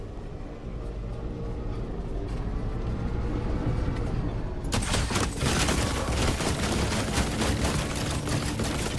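Rifle fire in The Last Caretaker, starting about halfway through as a sudden dense run of rapid shots over a steady low engine-like drone, loud and continuous to the end with no talk.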